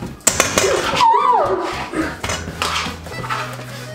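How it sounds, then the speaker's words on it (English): Butter and sugar get mixed in a bowl for cookies: loud, close clinks and scrapes of a utensil against the dish come in irregular bursts, with a brief squeaky scrape partway through. "Second step, we have to mix the butter."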